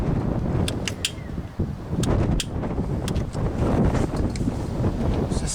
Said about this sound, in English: it's just so damn windy out here